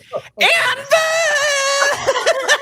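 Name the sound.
player imitating a character's scream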